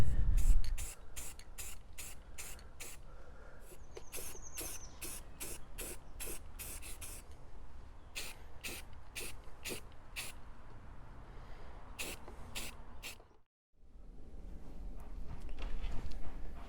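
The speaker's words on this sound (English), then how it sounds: "now I'm going to spray paint it a dark brown" An aerosol can sprays dark brown paint onto a radio, delivering a rapid series of short hissing bursts in fairly regular pulses, with a brief pause near the end before the spraying resumes, close and moderately loud.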